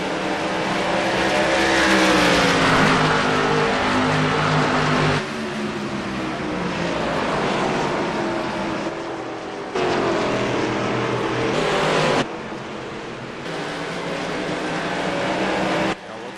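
Busch series race cars roar around the Phoenix oval in a racing video game, with continuous loud engine drone, rising and falling pitch sweeps as cars pass, and abrupt changes in the sound.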